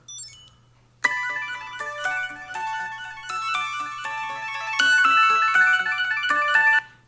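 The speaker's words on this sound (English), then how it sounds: "I can use this right here in the tracker card's buzzer to actually find my phone locally if it's just nearby" A phone ringtone set off remotely by a tracker card's buzzer plays a bright, repeating melodic tune loud and close for about six seconds after a short chirp, with no talking.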